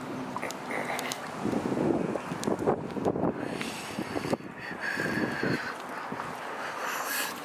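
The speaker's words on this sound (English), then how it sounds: "We got some wind here" A strong west wind buffets the microphone outdoors at a street protest beside a church in Montreal. Gusty rumbling roars and dies back in uneven surges, with faint rustling and clatter underneath.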